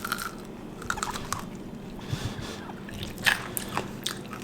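Crunchy chewing of sugar-coated candied fruit with a hard burnt-caramel shell, close bites and crackly crunches with soft wet squishes in between, no talking.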